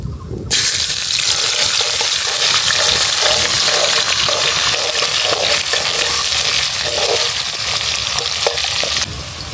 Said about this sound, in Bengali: কিছু তেজপাতা, কিছু শুকনো মরিচ আর কিছু জিরা। দিয়ে দেব পেঁয়াজ কুচি